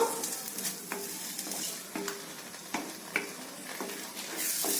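Onion and mint stirred and frying in a pan over medium heat for mint rice, with a steady low sizzle under repeated scraping and stirring strokes, close by and without talk.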